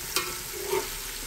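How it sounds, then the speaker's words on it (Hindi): Crushed garlic and ginger hit a pan of browned onions for a vegetable pulao, giving a brief hiss of frying and a couple of light stirring scrapes, close and without talk. "अब हम इसमें डाल देते हैं लहसुन और अदरक कुटा हुआ, 1 टेबल स्पून से थोड़ा सा ज़्यादा है ये, और इसको भी डाल के हम इसके साथ फ्राई कर लेंगे"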